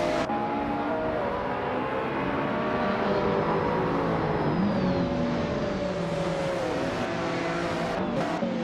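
Race cars in a video game race at Kalabagi, among them a 1992 Caesata Mort Order 416T Classic, a steady engine drone with layered revving tones shifting pitch as the cars pull away and jostle for position.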